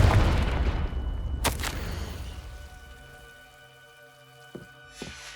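A Confringo spell blast in Hogwarts Legacy, a loud booming burst that decays over a couple of seconds, followed by a sharp crack and faint later clicks.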